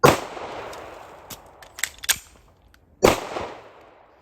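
Walther PDP pistol firing loud, sharp shots outdoors: an opening blast, a quick cluster of cracks, then another heavy report after a short pause, with no talking.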